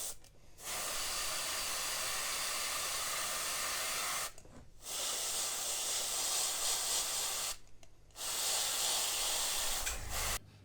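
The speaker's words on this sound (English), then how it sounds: "So I have some of the grey loaded in the airbrush, so I'll quickly go in and just tidy that up a little bit." An airbrush sprays grey paint onto a 1/200 scale model of the battleship HMS Hood, giving a steady close hiss in three long bursts separated by short silent pauses.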